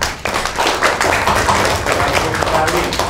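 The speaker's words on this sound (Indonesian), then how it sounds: "Ya, tepuk tangan" A fifth-grade class claps together in a classroom, loud close rapid hand claps forming a continuous rattle with voices mixed in.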